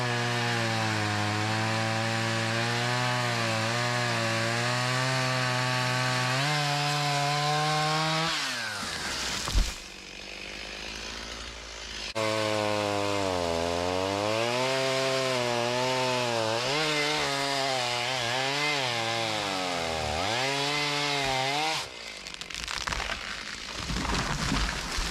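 A chainsaw runs loudly and nearly continuously while felling trees for firewood, its pitch rising and falling as it bogs into the wood, with two short drops to idle.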